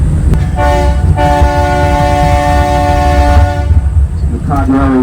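A loud, steady train horn blast from the Mount Washington Cog Railway holds for several seconds over the rumble of the train climbing at top speed, then briefly sounds again near the end.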